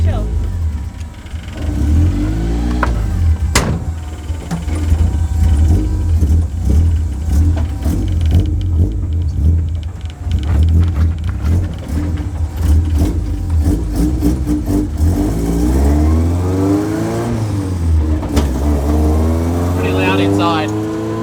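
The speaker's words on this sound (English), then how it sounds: "I'll just go for a little drive around the block just to see if my brakes are working." A car driving around the block on a test of freshly worked brakes. The engine hums and revs up and down with changing pitch as it moves, heard from close by with road noise and some muffled voices over it.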